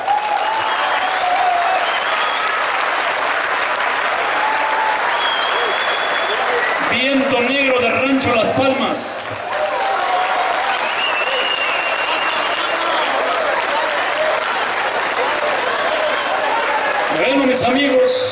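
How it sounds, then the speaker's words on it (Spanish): Loud, sustained crowd applause and cheering fill the arena at a bull-riding tournament, continuing steadily throughout while an announcer speaks over it through a PA. "Yo quiero aplausos porque estoy oyendo muchos gritos, y es aplausos únicamente"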